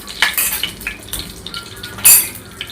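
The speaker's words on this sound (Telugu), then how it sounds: "నెయ్యి వేసుకున్న తర్వాత కాస్త జీలకర్ర వేయాలి. జీలకర్ర కాస్త వేగాలి." Cumin seeds fry in ghee in a pan, heard as a light sizzle. Metal pan and utensil clinks cut through it, with a sharper scrape near the end.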